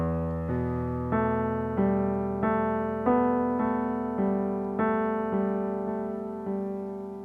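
Solo piano plays a chord passage, a steady rhythm of about a dozen sustained chords, each struck cleanly and left ringing, close and moderately loud with no voices.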